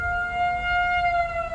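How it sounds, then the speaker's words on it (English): Civil defense tornado siren in Springfield, Missouri sounding during a routine test: a loud, steady wailing tone held without a break, with no voices over it. "Right now in Springfield, Missouri, and tornado sirens are going off."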